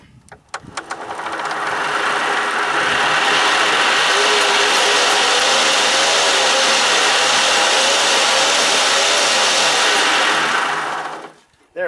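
A hand-spun generator with four magnets and four coils whirs up to about 2700 RPM, a loud steady mechanical whine and hum that holds for roughly ten seconds and then cuts off abruptly.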